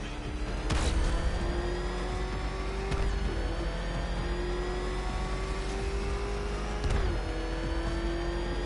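The Batmobile's engine in a Batman video game holds a steady loud drone with pitch shifts and a few sharp rev surges. It runs alone, without talk.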